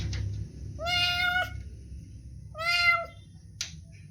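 A stray cat that wandered up to a house meows twice, each call clear and near, about two seconds apart, over a low background rumble.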